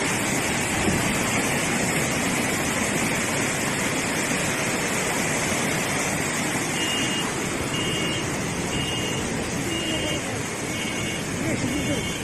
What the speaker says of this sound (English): intense snowmelt from surrounding farmland surged toward residential areas and nearly drowned an